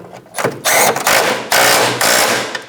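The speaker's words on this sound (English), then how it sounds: "Install the washer and the nut and snug it down." A ratchet snugging down the motor mount nut on a 2005-2009 Subaru Legacy during engine work, loud close bursts of clicking, three or four quick rounds of cranking with brief breaks between them.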